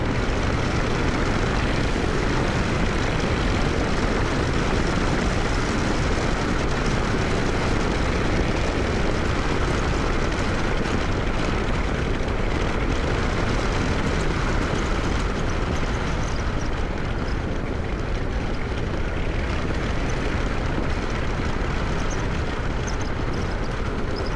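Harley-Davidson 2024 Street Glide or Road Glide motorcycle on a test ride, a steady, loud engine drone mixed with broad wind rush that holds constant for the whole stretch, with no talking.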